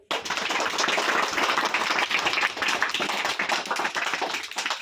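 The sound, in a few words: schoolchildren clapping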